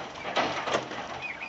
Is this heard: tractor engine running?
no